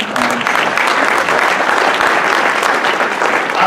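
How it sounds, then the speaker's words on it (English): Audience applause at an event with a U.S. congressman and senator, a dense, steady clapping from a crowd that fills the whole stretch loudly and without pause. "So give yourselves a round of applause"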